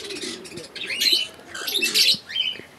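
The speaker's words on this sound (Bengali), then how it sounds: "এইখানে দেখতে পাচ্ছেন একটা ককাটেল পাখি" Cockatiels chirping in short, bright bursts, three or four clusters of tweets in quick succession, fairly close over a light background hiss.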